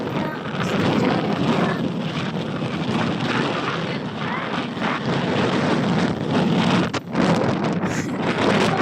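Strong wind in San Miguel, Catanduanes buffets the microphone in a continuous roaring rush, swelling and easing briefly, with no clear voices.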